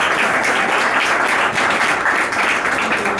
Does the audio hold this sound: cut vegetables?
no